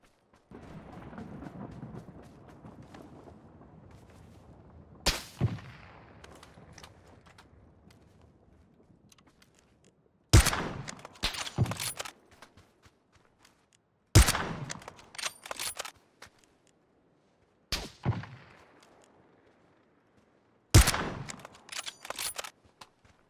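Sparse gunshots in the video game PUBG, several sharp loud cracks spaced seconds apart with a decaying tail after each, the first preceded by a low rumbling background.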